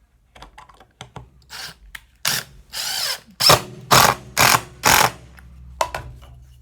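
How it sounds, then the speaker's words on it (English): Clamps being set into place on a simple wooden tapering jig: a series of sharp clicks and ratcheting clunks, several loud bursts in quick succession, close by. "these fancy clamps will go right into place"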